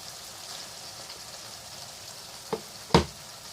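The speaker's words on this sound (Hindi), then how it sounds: "मैं इसको योगर्ट के साथ अच्छे से इस चिकन कीमा कढ़ाई को अच्छे से भूनूंगी" Chicken keema frying with yogurt in a karahi, a soft steady sizzle close by, broken by two sharp clanks of a utensil against the pan near the end.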